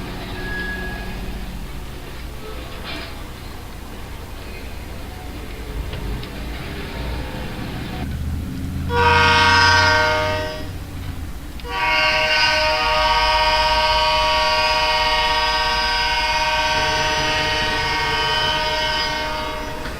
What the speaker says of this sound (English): the train rolls out of West Mill and heads to Mayfield Yard